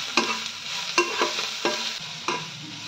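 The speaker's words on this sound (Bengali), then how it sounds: "দেন ভালো করে একটু নাড়াচাড়া করে মশলাটা মিশিয়ে নেবো।" Spices being stirred together in a pan: chaat masala, a little sugar, turmeric and asafoetida, with four distinct scraping strokes of a spoon against the pan over a soft sizzle, close and clear with no talking.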